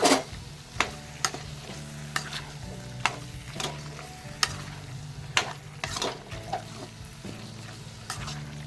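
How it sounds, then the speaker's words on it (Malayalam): Chicken roast fries in a pan with chopped ingredients and is stirred, producing a continuous sizzle broken by frequent sharp scrapes and knocks of the spoon against the pan, close and fairly loud. "നന്നായിട്ടൊന്ന് ഇളക്കി കൊടുക്കണം."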